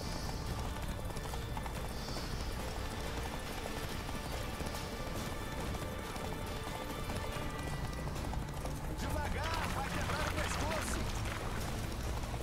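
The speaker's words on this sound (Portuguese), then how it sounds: "Pausa básica para pegar vigor no cavalo." A horse gallops in The Witcher 3: Wild Hunt, hooves clip-clopping steadily under game sound, while a player talks over it.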